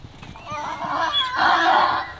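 Horses meeting in a paddock give a long, rising whinny that swells into a louder neigh, with soft hoof movement and light outdoor noise beneath.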